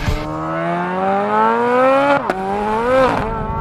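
A Chevrolet Corvette Z06's naturally aspirated flat-plane crank V8 revs hard, pitch climbing steadily, dipping sharply at a gear change and then climbing again. It sounds close, loud and alone.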